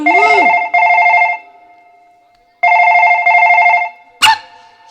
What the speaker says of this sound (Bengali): আবার ফোন ঢুকেছে